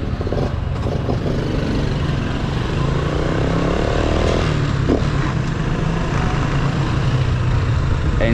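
A Honda Wave S motorcycle engine runs loudly and steadily throughout, a continuous close buzzing drone with no pauses.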